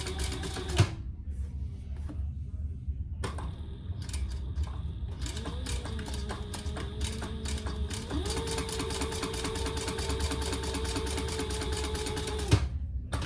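A sewing machine chain stitches a sling, running in fast, even mechanical bursts with short pauses between runs, close and clear, its motor hum rising slightly in pitch during the longer later stretch.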